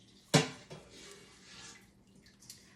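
Whey drips from draining mozzarella cheese curds, a single louder splash followed by faint, sparse trickling and drops, close and quiet.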